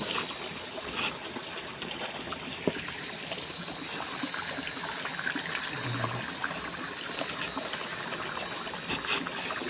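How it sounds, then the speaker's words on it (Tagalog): A small stream trickles and flows steadily at low volume outdoors, a soft continuous watery wash with faint splashes and no talk. "Ayan, dito po may sapa."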